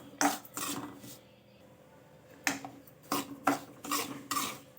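Bombay rava semolina being roasted in ghee in a pan over a low flame, with several short bursts of scraping and stirring against the pan separated by quiet pauses, close and fairly soft.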